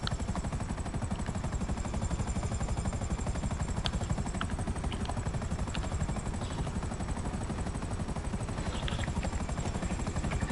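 A helicopter in GTA V Online on PS5 keeps up a steady, rapid rotor chop and engine whine for the whole stretch, close and even, with faint game sounds and no talking.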